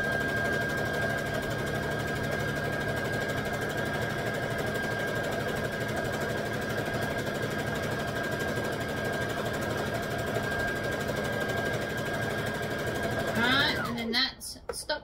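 Stitching a wrap skirt, a sewing machine hums in one steady, unbroken run for many seconds before stopping abruptly near the end, with a person talking over it.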